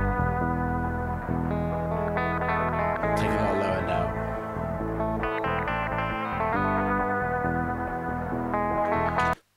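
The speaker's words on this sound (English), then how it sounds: "All the noise in the background's from the tape echo." Surf guitar track played back through a 1970s tape echo unit, with constant hiss and echo noise running under dense, reverberant guitar and drums that stay loud for nearly ten seconds before stopping abruptly.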